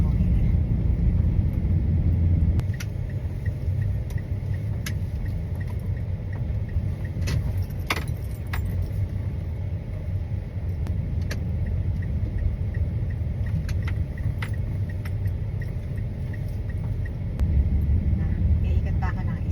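A car driven around on a driving lesson, with a steady low engine and road rumble inside the cabin, occasional light jangles and clicks, and a brief louder swell near the end.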